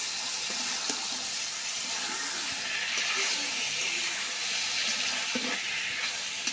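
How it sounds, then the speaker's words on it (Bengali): Pointed gourd and potatoes fry in oil with spices in a pan, giving a steady close sizzle that hisses throughout with occasional faint clinks. "মশলার সাথে পটল আলুগুলো কষে নেওয়া হচ্ছে"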